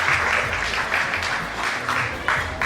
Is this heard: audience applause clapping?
yes